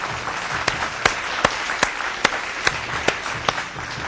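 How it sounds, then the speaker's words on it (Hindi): A TV quiz-show studio audience applauds a child contestant, Kautilya. Broadband clapping is punctuated by sharp, evenly spaced claps roughly every half second, close and loud throughout. "कौटिल्य के लिए एक बार जोरदार तालियां हो जाए"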